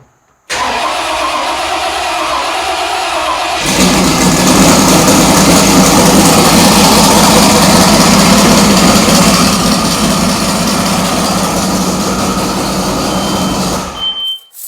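A 1969 Camaro Z28, unstarted for about four months, cranks briefly then catches and settles into a loud, steady, rumbling idle heard up close with no talking.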